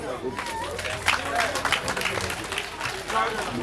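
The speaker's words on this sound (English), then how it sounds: "I want for the all Korankos to also clap for itself" Audience clapping at a gathering of the Korankos organization: dense, steady crowd applause with some cheering voices mixed in, moderately loud throughout.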